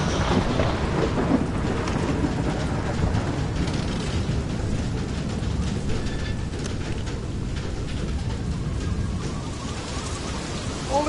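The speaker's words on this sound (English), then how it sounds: "Listen to the rain." Steady heavy rain pours in the game Far: Lone Sails, a dense continuous hiss and patter with a low rumbling roar beneath, unbroken and even throughout.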